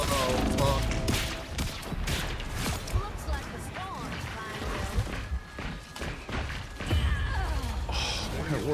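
Gunfire in the hero shooter Marvel Rivals, with bursts of shots and thuds scattered through the clip under steady, excited talk from players.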